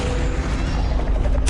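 A Confringo fire spell cast in the Hogwarts Legacy video game erupts as a loud, dense, continuous rumbling roar, ending in a sharp bright burst.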